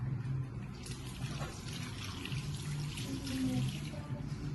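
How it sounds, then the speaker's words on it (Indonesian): Tap water runs steadily while hands are washed with soap under the flow, a soft continuous splashing and trickling at moderate distance with no talk. "Cuci tangan menggunakan sabun dan air mengalir dengan cara 6 langkah"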